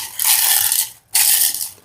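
A mixer grinder jar crushes homemade tea powder in two loud, harsh grinding bursts separated by a short silent pause, heard up close without talk.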